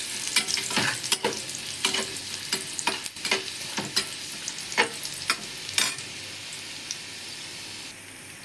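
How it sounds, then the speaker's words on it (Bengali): Garlic fries in hot oil with a steady, loud sizzle, broken by sharp scraping clicks as it is stirred in the pan. "আমি তেলের মধ্যে রসুন দিয়ে দিব। দিয়ে রসুনটা ব্রাউন কালার হওয়া অবধি এটাকে ভেজে নিব।"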